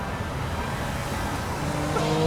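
A Porsche passes on a hilly road, heard from inside a small Renault Twizy electric car: a steady road and engine rumble that swells slightly toward the end as the faster car goes by, with no talk.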